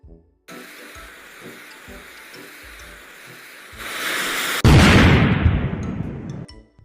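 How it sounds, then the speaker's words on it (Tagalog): A New Year firecracker goes off outdoors: a steady fizzing hiss runs for several seconds, then swells into a loud, broad burst and blast that slowly dies away. "narinig kasi namin yung paputok mo kaya pumunta kami dito"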